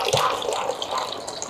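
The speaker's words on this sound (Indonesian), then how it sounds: "Ini aku ambil air 1 liter lagi ya?" One liter of water poured into a cooking pot while making bubur kanji rumbi, a brief steady splashing gush close by with no talk over it.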